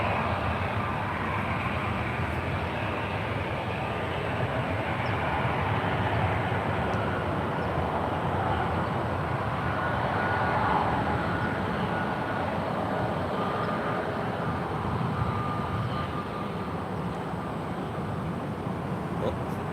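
Airliners landing one after another on the runway at San Francisco International Airport, a steady, loud roar of jet engines that swells and fades gently across the whole stretch, with tower radio chatter and voices under it.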